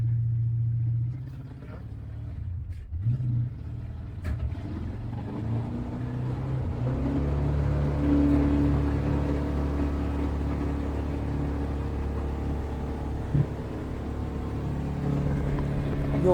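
A 1995 Custom Weld Cobra jet boat's engine runs out on the water with a steady, loud low rumble that holds for the whole stretch, with no one talking.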